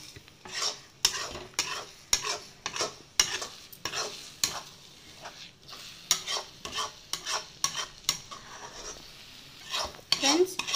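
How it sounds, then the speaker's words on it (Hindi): Eggs and chopped onions stirred in a frying pan for onion egg burji, a steady run of sharp spatula scrapes and knocks against the pan in an irregular rhythm over a soft sizzle, close and fairly loud, with no talk. "मुट्टै ओडिच्चु वच्चिरुक्केन अदै पोट्टुक्कलाम नल्ला फ्राई पन्निकेंगे"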